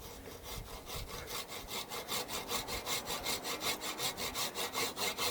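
Hand saw cutting through a yew (Taxus baccata) bonsai branch, a steady rhythmic rasp of push-pull strokes that quickens and grows louder toward the end, close and alone with no talking.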